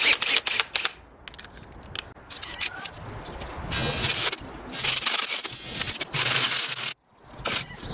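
An air-powered Dremel bit cuts a hole in metal for a turbo wastegate mount, giving harsh bursts of high-pitched grinding and scraping that start and stop repeatedly before cutting out abruptly near the end.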